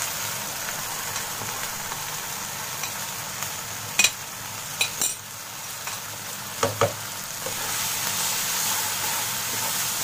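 Dry spices roast with ginger and garlic in a pan for aloo keema masala, a steady, soft sizzle and hiss broken by a few sharp clicks and scrapes of stirring, with no voices.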